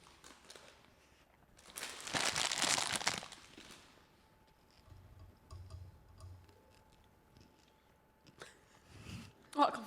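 A snack bag rustles and crinkles in loud bursts, with crunchy chewing sounds between, up close under quiet talk.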